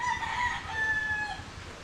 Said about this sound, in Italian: Galline sempre.